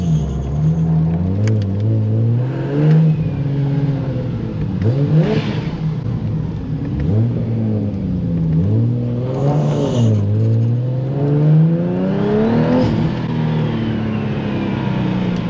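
A Toyota 2JZ six-cylinder engine in a manual MK5 car revs up and down repeatedly, loud and close, pitch rising and falling in several bursts over a steady rumbling idle.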